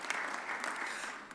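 Reporters and guests at a mayor's press conference give a brief, steady wash of applause, even and fairly soft throughout.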